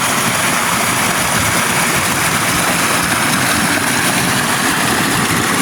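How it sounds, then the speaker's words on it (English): Steady, loud broadband rush of a creek swollen with snowmelt runoff, flowing continuously close by without pause; no talking. "the creek does come in here at some point. I can't see it right now, but listen to that"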